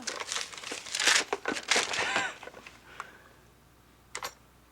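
Crinkly paper crumpling and tearing as a Christmas gift is unwrapped, a few bursts of rustling close by, then quieter, with one last brief crackle.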